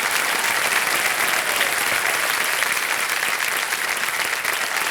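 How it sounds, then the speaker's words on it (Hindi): Dense studio audience applause on a television quiz show set in India, steady and loud throughout without a break, filling the whole stretch with no voices standing out. "तालियां बजती रहे इनके लिए."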